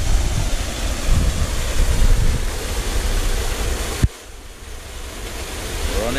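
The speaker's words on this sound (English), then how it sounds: "Running water, they call that." Running water from a small waterfall in the bush, a loud steady rushing roar close to the microphone, with a sharp knock partway through and a softer wash afterward, no talk.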